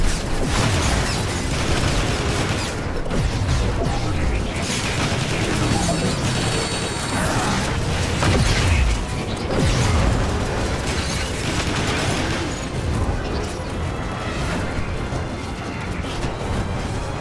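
Gunfire and explosions from Transformers: War for Cybertron fill the mix, with dense rapid shots and repeated heavy booms layered with game music and effects, loud and continuous throughout.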